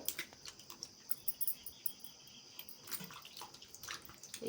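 Mushrooms are rinsed by hand in water to wash off red soil, giving faint, irregular splashes and drips close by in a quiet room with no voices.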